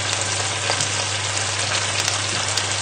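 A knob of butter sizzles with carrots in a hot pan, giving a steady, close, dense frying hiss with no breaks and no talking.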